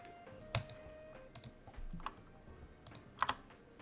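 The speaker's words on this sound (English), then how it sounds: "You're just gonna have to deal with my loud keyboard." A loud computer keyboard clacks in sparse, irregular bursts of sharp keystrokes close by, with short pauses between clusters over a quiet background.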